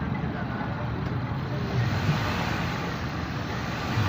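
A Toyota 1.6 litre 1600cc engine held at raised revs during an engine flush in an auto workshop, a steady, even rumbling drone with no breaks.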